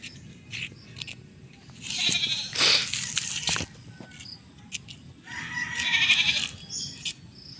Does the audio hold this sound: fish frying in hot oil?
no